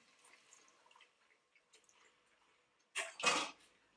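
In a quiet kitchen, faint drips and small clinks lead to a ladle of stock being poured into risotto rice with mushrooms and peas. It lands as a brief, close splash and gush lasting about a second.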